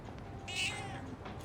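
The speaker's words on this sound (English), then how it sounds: "Hello, weak cat. I shall feed you eventually." A single short meow from a cat in the video game Persona 3 Reload rises out of soft background music, clear and fairly close, with no talking.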